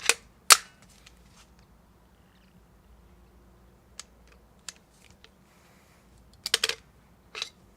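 An airsoft gas grenade is fired from a GL 06 grenade launcher. A few sharp pops and snaps ring out, then scattered ticks and a quick cluster of cracks near the end, with quiet gaps between them.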